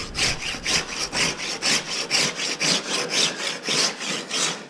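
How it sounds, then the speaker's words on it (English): Rasping, even back-and-forth scratches as claw marks are raked into the wooden mating surfaces of a bow before gluing, about a dozen regular close strokes in quick rhythm, with no talk. "So with these claw marks you're putting in here on all your mating surfaces, it really bites."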